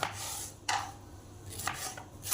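Raw mango is cut into pieces with a knife, giving a few close chopping taps spaced irregularly on a board. The room is otherwise quiet.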